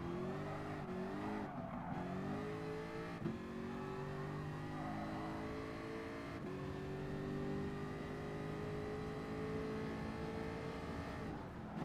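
Race cars in a Gran Turismo Sport Group 3 Cup event: a steady engine drone holds throughout with shifting gears and brief tire squeal, loud and continuous with no talking.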